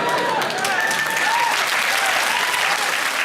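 A studio audience breaks into sustained applause, a dense, even wash of clapping that fills the room at a steady level.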